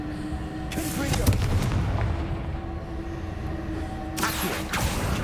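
Fiery Confringo spell blasts in Hogwarts Legacy, a loud broadband explosive burst near the start and another toward the end over a steady rumbling game backdrop.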